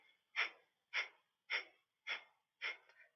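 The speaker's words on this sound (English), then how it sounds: "It's a rapid breath through the nose" Five rapid, forceful nasal exhalations of Kapalabhati yoga breathing, evenly spaced about half a second apart, each a short sharp puff of air heard close and alone with silence between.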